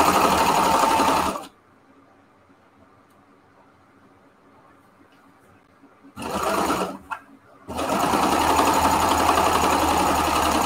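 A serger sewing machine stitches fabric with elastic in loud, steady bursts of whirring stitching, with a long quiet pause and a brief stop-start before it runs again.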